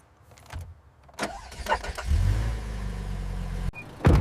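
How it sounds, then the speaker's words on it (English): A car engine cranks and catches, then settles into a loud, steady idle close by, with a few clicks and thumps before the start and no talking. "I start the car"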